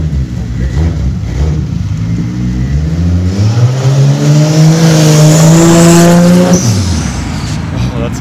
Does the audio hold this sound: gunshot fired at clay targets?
no